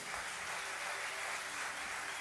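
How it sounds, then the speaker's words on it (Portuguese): Congregation applauding the Lord during a church sermon, a faint, steady hiss of many hands clapping together, distant and without pause. "Dê uma salva de palmas ao Senhor."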